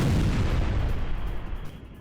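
Iranian missile strike on Beersheba in news footage: a heavy, rumbling explosion that fills the low end, then slowly dies away as a dense roar.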